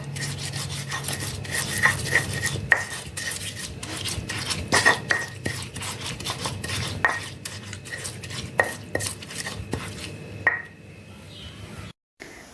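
Repeated grinding and rubbing of a pestle against a stone mortar, crushing spices with palm sugar, steady scraping strokes with occasional sharp clinks, close up and without talking.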